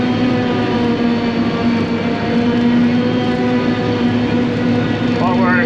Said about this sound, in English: we're chopping a couple loads to get some fresh stuff on top of the silo again